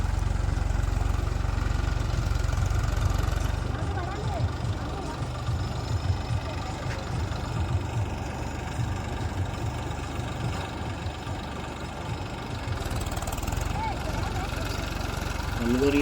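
A tractor engine runs in a farm field where groundnuts are being sown by machine. Its low, steady rumble holds through the whole stretch and dips slightly in the middle.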